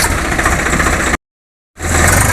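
A tractor engine runs loud and close with a steady idling rumble, cuts out abruptly into half a second of silence, then comes back and keeps idling.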